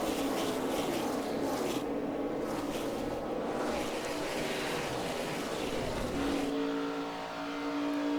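Race cars roaring as a NASCAR race gets underway at Las Vegas Motor Speedway, a dense sustained engine drone with a rising tone near the end, steady and loud throughout.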